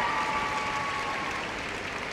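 Audience applause in the hall at the Crufts 2015 dog show during pastoral group judging, a sustained wash of clapping from a large crowd at a distance, steady and fading slightly.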